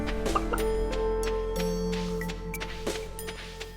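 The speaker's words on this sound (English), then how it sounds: "here are all of our lovely chicken run chickens." Chickens in the Stardew Valley game cluck in short scattered bursts over a steady background music bed, several soft calls spread across a few seconds.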